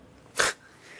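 A single sharp sneeze bursts out abruptly in a quiet room, brief and loud, followed by faint background noise.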